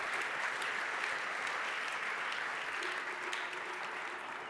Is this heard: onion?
no